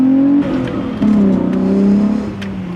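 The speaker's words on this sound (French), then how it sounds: "Les gros moteurs comme ça, c'est vraiment impressionnant." A Volkswagen Golf VR6 pulls hard in first gear, its engine note a loud, steady, rising drone with a brief dip near the start, close to the listener and alone.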